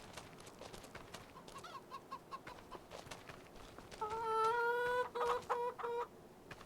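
Chickens in a fenced coop in the farming game Farming Simulator 25 keep up a steady layer of soft clucking, then a rooster crows loud and near and holds the call over the last couple of seconds.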